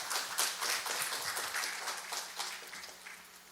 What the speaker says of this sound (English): loud applause.